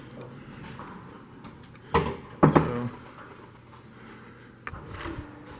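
Elevator doors slide and thump shut in a quiet corridor of an Orlando Central Parkway building, a couple of sharp clunks close together, then a softer knock later, with a brief spoken word.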